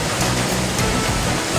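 Wli waterfall in Ghana's Volta Region, about 70 meters high on the Agumatsa River, roars as a steady, loud broadband rush of falling water with no pauses.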